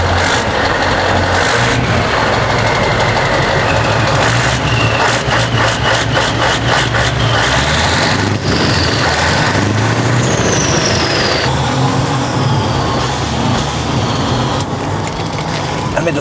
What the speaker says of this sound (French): un gros moteur comme ça avec un gros turbo, souvent le turbo il étouffe pas mal le son